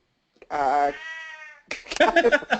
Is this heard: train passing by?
no